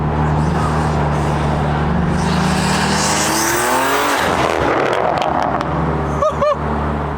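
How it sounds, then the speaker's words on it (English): A BMW M car (G80 M3/M4 or M2) with the S58 engine and titanium intakes, driven hard on the road under load: a loud, close engine roar builds and swells, then cuts off into sharp pops and brief chirps near the end. "Where the intakes shine is when the car is on the road and under load."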